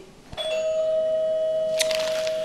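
A doorbell chime rings once at an apartment door, a sustained tone sounding alone and fairly loud, followed by a brighter burst near the end.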